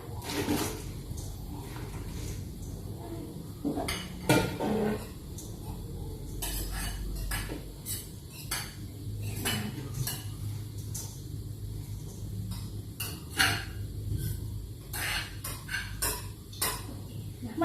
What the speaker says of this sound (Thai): ต่อไปนะคะเมื่อได้หนึ่งพันกรัมเรียบร้อยนะคะเราก็เทลงไปในหม้อค่ะ